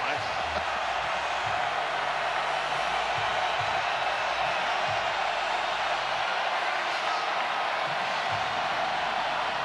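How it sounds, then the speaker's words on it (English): A college football stadium crowd roars steadily throughout a third-and-goal play at the six-yard line in a Georgia Tech versus Louisville game, a loud, continuous wash of noise with no breaks. "Listen to this crowd."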